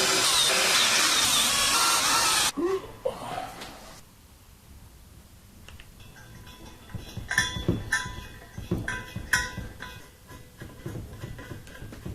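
A power drill drives screws into a steel welding table, with a loud burst at first and then a run of short whirring pulses and clicks close by.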